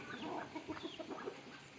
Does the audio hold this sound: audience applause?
no